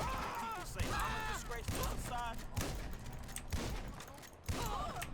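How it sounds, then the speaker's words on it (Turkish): Gunfire from a weapon in the video game GTA 5 cracks out in repeated sharp shots under excited talking, with chirping game effects mixed in throughout. "Görünmez bir şey vuruyorum şu an."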